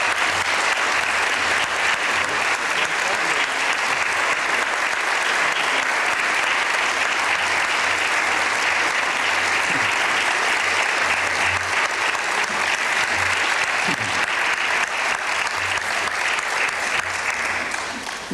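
An audience at a high school Hall of Fame induction ceremony gives an inductee sustained, steady applause that holds loud and even for the whole stretch before easing slightly at the end.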